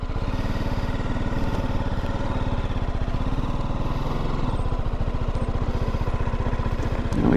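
A motorcycle rides slowly at low revs. Its engine gives a close, rapid, even putter of firing pulses that softens a little partway through and then picks up again at the end.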